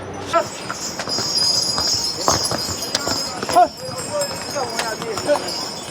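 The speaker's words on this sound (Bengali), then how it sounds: "ঘোড়াগুলো যখন আসছে পেছন থেকে ধাক্কা মেরে চলে যাচ্ছে।" Horses' hooves clip-clop along a steep, cold mountain pilgrimage path on the trek to Kedarnath, sounding as scattered close knocks under steady talking and trail noise.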